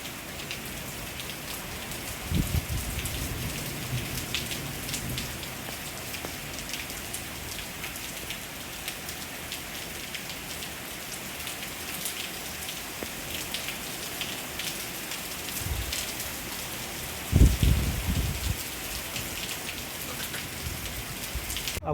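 Steady rain falls on surfaces outdoors at night, a continuous dense patter throughout, with a couple of louder thumps or knocks breaking through briefly.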